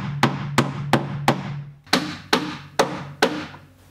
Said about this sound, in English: I'm hammering from this side